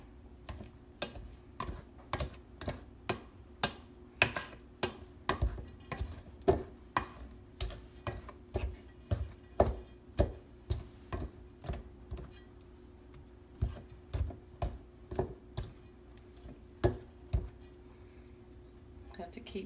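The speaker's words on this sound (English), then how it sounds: "I'm going to take a pastry blender and cut that in." A pastry blender cuts butter-flavored lard into flour for buttermilk scratch biscuits, making a steady run of sharp, close clicks and taps against the bowl, roughly two per second, over a low background hum.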